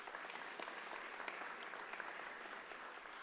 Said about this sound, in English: Can we please give them here a round of applause?